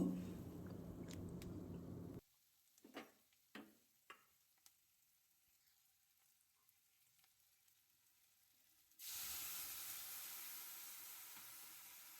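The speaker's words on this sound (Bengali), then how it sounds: "আমি পেঁয়াজগুলো এখন হালকা করে লাল লাল করে ভেজে নিচ্ছি" Onions frying lightly in a pan, a soft steady sizzle at the start that drops away, a few stirring scrapes and clicks in the quiet, then the sizzle returns louder near the end.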